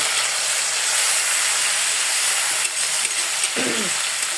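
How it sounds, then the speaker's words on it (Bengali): Prawns fry with salt and turmeric in a hot pan, throwing off a loud, continuous sizzling hiss, with a brief stir or scrape near the end. "এখানে লবণ আর হলুদ দিয়ে মাছটা একটু ভেজে নিচ্ছি।"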